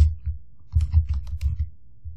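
Computer keyboard typing into a Word table, a run of light, irregular key taps at close range, uneven in rhythm with brief pauses and no talk.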